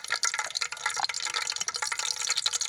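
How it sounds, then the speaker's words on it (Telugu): Curry leaves hit two millilitres of hot oil over a wood-fired stove, giving a bright, dense crackling sizzle with rapid popping spits that carries on unbroken and fairly loud. "రెండు ఎంఎల్ నూనెలోనే కరివేపాకు వేసేస్తున్నాను"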